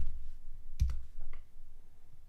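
Soft clicks from a computer keyboard as a zip code is entered, a few sparse taps over faint background hum, quiet and close.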